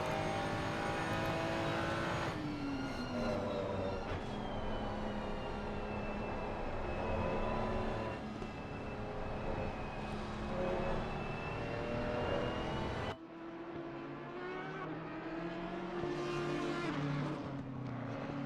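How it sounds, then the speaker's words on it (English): GT3 race cars lap Spa-Francorchamps in a racing video game, their engines roaring and shifting in a continuous close drone that drops sharply in pitch near the end. "Riccardo Bonofoco, currently from P8, is trying to attack that Audi."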